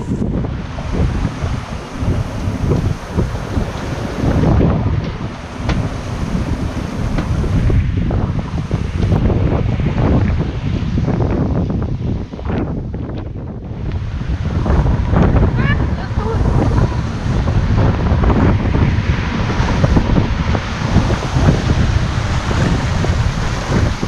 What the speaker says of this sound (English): the waves were getting bigger and bigger and we saw a lot of breaking waves